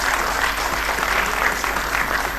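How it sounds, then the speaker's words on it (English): Loud, dense applause from a large auditorium audience at a vice-chancellors' conference, a continuous wash of clapping that holds steady throughout. "give a loud applause"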